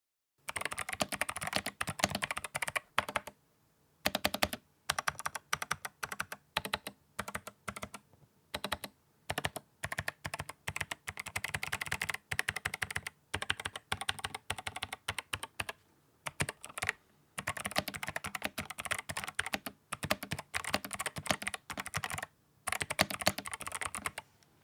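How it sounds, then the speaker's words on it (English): Fast continuous typing on an 8BitDo Retro Mechanical Keyboard with loud clicky switches, a dense close-up clatter of keystrokes with a few brief pauses, no voices. "If you are sensitive to a clicky keyboard though, then this may not be for you, as it is quite loud"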